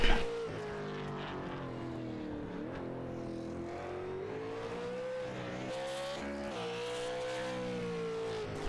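A race car engine in the iRacing sim at The Bullring short track drones steadily through a lap, its pitch rising and falling with gear changes and corners, moderately loud and alone with no talk.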